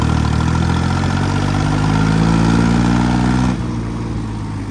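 A tractor engine, stuck in gear and smoking, runs as a loud, close, steady drone that climbs slightly in pitch and then drops abruptly to a lower idle near the end, with no talking.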